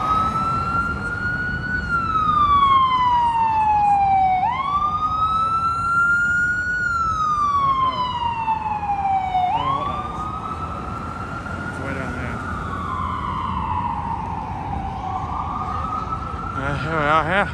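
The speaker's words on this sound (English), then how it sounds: "it's the ambulance." An ambulance siren wails along a New York street, its tone sweeping up and down in long, slow cycles, loud and fairly close over steady traffic rumble.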